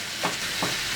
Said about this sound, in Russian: И будем жарить с луком на среднем огне, время от времени помешивая.